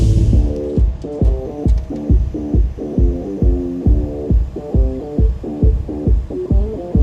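A Big John 65-inch tree spade lifts a tree plug out of the ground, its hydraulic machinery giving a loud, close, rhythmic throbbing hum that pulses about twice a second throughout.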